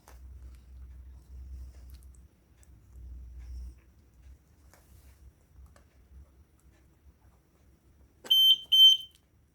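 A battery-powered Arduino vibration-sensor alarm running on a 9-volt battery gives two short, loud high-pitched beeps near the end, after a stretch of faint low rumble and handling noise.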